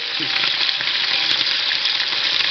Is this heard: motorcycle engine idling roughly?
no